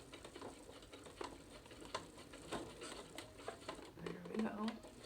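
A sewing machine stitches slowly across a fabric band in a steady mechanical patter of clicks and whirs, close and moderately loud, with a voice talking over it.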